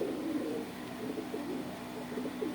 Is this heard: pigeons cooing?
yes